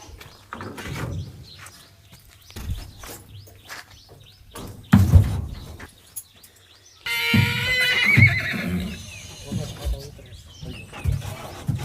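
A horse whinnies loudly and hooves clatter as it is led off a vehicle, with people talking and birds chirping nearby.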